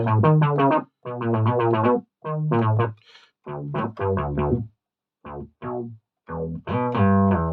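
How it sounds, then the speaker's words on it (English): A buzzy, tuba-like ARP Odyssey plugin synthesizer bass played on an Akai MPC plays a string of short phrases, separated by brief pauses, bright and fairly loud. "So this is basses from the ARP, or a tuba sound indeed, from the ARP Odyssey plugin."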